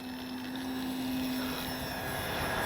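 A HobbyZone Carbon Cub S2 RC plane flies in strong wind, giving a steady, continuous motor drone and rushing air at a constant level throughout.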